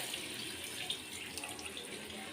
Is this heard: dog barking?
no